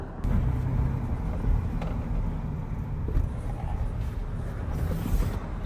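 2013 Chevrolet Silverado with a misfire driving on a test drive, steady road and engine rumble with wind buffeting, moderately loud throughout.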